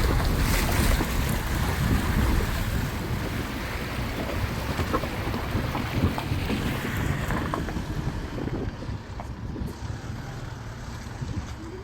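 Rushing river water at a riverside campsite in Kayabu, Tanay, Rizal, heard as a dense, steady wash and splash with wind noise on the microphone, loud and continuous throughout.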